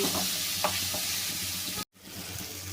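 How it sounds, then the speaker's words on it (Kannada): Chili paste fries in hot oil with a steady close sizzle and crackle while a spoon stirs it, the frying briefly cutting out before resuming. "ಈ ಥರ ಎಣ್ಣೆಲಿ ಹುಡ್ರೆ ಇನ್ನೂ ಖಾರ ಕಲರ್ ಬರ್ತೈತಿ"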